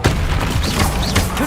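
Rapid, dense bursts of the Confringo blasting spell in Hogwarts Legacy, loud and continuous with overlapping booms and crackling impacts filling the whole moment, game sound effects layered close together.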